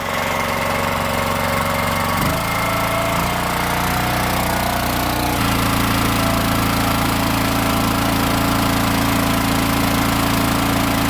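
The small gas engine on an Axis log splitter runs at a loud, close, steady drone, shifting pitch briefly in its first few seconds before settling into a constant rumbling run.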